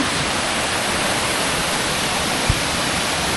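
A waterfall spills off a hill from a swollen creek in West Virginia during a rainy season, giving a steady, loud, broadband rush of water that never lets up, with a single soft knock partway through.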